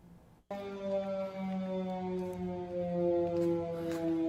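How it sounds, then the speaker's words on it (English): After a brief quiet moment, a wailing air raid siren starts during the Artsakh war and holds a sustained, droning tone with slow pitch shifts, loud and continuous. "These sirens have been going off for hours"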